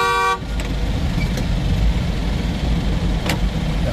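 A car horn gives one short, loud blast at a road narrowing, followed by a steady rumble of engine and traffic noise.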